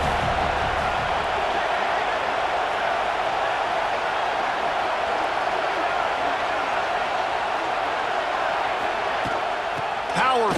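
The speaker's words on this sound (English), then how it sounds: "This crowd ready to make its presence known." A large football stadium crowd roars in a steady, dense wall of noise for the whole stretch, with a brief sharp shout near the end.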